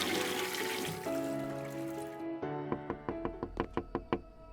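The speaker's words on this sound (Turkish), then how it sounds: "Sifonu çekelim." Toilet flushing in the game Self Isolation: a broad rushing wash of water fades over about two seconds, then a run of quick, regular knocking taps follows, fairly close and moderately loud, with no talk.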